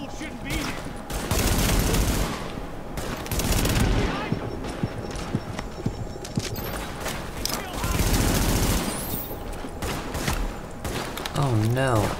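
Gunfire in the video game The Division, with rapid bursts of automatic rifle fire and scattered single shots mixed with other game effects and sounds, and a voice talking now and then.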